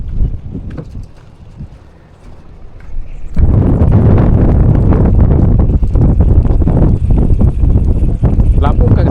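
Strong wind buffets the microphone on a river raft while fishing, first gusting lightly under talk, then roaring loud and steady after a few seconds as voices continue.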